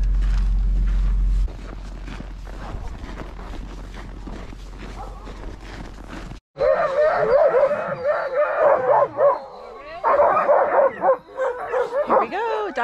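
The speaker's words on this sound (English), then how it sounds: "Dog sledding in the Grand Tetons." Sled dogs before a dog-sledding run in the Grand Tetons in winter: a pack yips, barks and howls together loudly and close by, following a stretch of low rumbling background and faint voices.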